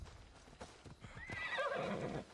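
Horse in Assassin's Creed Odyssey neighing loudly after a run of hoofbeats, the whinny rising and trailing off near the end with no talk over it.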